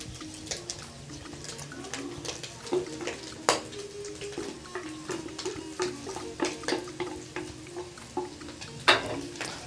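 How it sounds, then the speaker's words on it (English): Onions sizzle in a pan for a homemade beef Rolex, with a soft steady frying hiss broken by frequent irregular clicks and scrapes of stirring, fairly quiet and close. "So now I'm going to add the onions."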